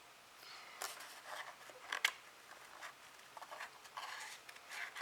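Scissors snip through a paper card in a few quiet, irregular cuts against a hushed indoor background.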